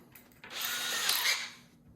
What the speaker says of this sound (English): and then we're going to drill.